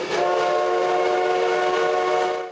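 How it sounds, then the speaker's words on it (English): A heritage train rumbles steadily along the tracks with a sustained tonal hum, close and continuous throughout. "All aboard the 1880 train"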